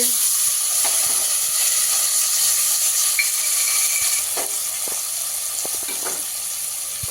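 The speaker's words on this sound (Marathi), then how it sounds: "मटार आणि कॉर्नचे दाणे घालते आहे।" Peas and corn kernels sizzle in hot oil, giving a steady, close hiss of frying throughout, with a few faint stirring clinks and no talking.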